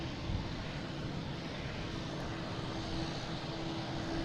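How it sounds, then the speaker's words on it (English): A JetBlue Airbus A220 jet airliner taking off at Boston Logan airport produces a dense, steady engine roar with a sustained tonal hum running underneath, constant in level throughout. "And JetBlue taking off, heading to Charleston. An A220."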